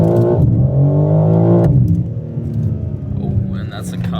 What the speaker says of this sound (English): Let me downshift.